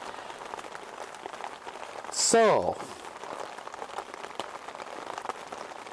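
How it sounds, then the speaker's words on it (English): Heavy, steady rain lashes a FORCEATT two-person dome tent after some sixteen hours of downpour, a dense close patter on the fabric throughout, with a brief louder burst midway and a voice speaking over it. "I've had constant rain now for round about 16 hours, and it's absolutely lashing it down now."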